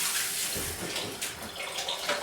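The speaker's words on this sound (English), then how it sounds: "Now, I've got to wash my hands." Tap water runs steadily into a kitchen sink as hands are washed during home cooking of a vegetable soup, a close continuous hissing splash with small shifts as the hands move through the stream.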